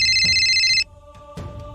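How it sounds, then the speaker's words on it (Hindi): A phone ringtone rings loudly and electronically for under a second, then stops, followed by faint tones and a brief thump. "तभी उसका फोन बज उठता है।"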